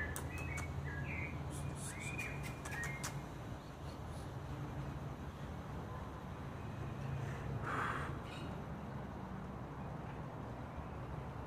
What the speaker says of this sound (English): And a cockatiel, I think. Cockatoo or cockatiel, one of those two.